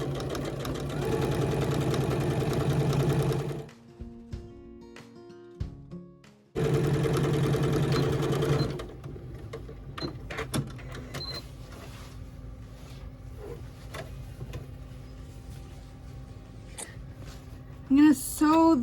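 A sewing machine runs loudly in two sustained stitching bursts while sewing a zipper into a changing pad cover, separated by a quieter pause with mechanical clicks, followed by handling noises and small taps toward the end.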